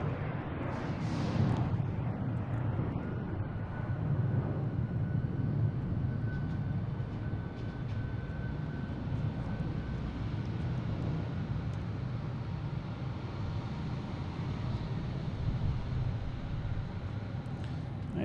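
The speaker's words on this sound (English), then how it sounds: "JetBlue heading to San Francisco. An A321, flight 6333." A JetBlue Airbus A321 jet airliner at Boston Logan gives off a continuous low rumbling roar with a faint steady whine above it, even and moderately distant, with no voices.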